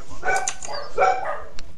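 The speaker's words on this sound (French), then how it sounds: "il y a des chiens chez toi, Loulap, méfie-toi" Several dogs bark in short repeated bursts at a player's home in the game Natural Selection 2, a few sharp yips and barks spread over under two seconds, moderately close with a faint background bed.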